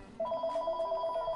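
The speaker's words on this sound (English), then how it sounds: "Sorry, I can't stop the phone ringing right now." A video game phone in Tales from the Borderlands rings with a steady electronic trill, a rapid pulsing two-tone ring that starts abruptly and repeats evenly at moderate volume.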